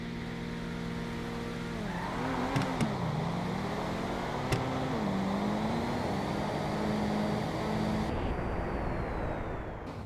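Engine roar and tire squeal from a Corvette racing a G35 in a GTA street-racing game, steady loud revving with pitch sweeps as the cars shift and accelerate, a couple of sharp clicks mid-run.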